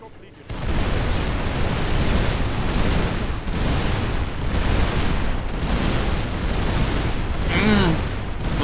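Artillery barrage in the strategy game Call of Warhammer, with loud repeated booming explosions in a dense, continuous battle roar and a faint voice near the end.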